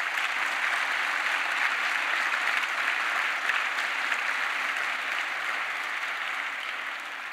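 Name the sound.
audience applauding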